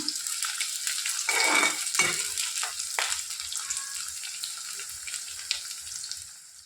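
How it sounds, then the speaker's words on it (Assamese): Steady sizzling of ginger and garlic frying in a hot pan, with a few soft stirring clinks, no talking. "এয়া আদা ৰচুন দি দিওঁ। এইখিনি অকণমান দেৰি ভাজি লওঁ।"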